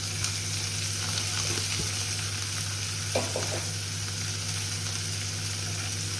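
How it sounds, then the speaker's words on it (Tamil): Onions frying in a pan for a lunch gravy, a steady even sizzle throughout with a low hum underneath and a couple of soft stirring scrapes, no voices. "இப்போ வெங்காயம் போடுறேன்"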